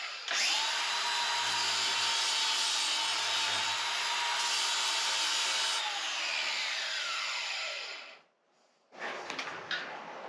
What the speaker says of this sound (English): And then try flap disking underneath that one.